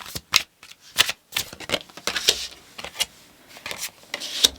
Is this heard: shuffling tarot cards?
yes